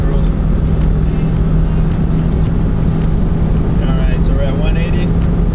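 A car being floored at Autobahn speed, heading toward Austria, gives a steady, loud engine and road roar with a low drone that holds throughout and swells slightly toward the end.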